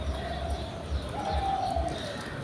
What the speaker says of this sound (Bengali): এই হইতাছে আরেক জোড়া কবুতর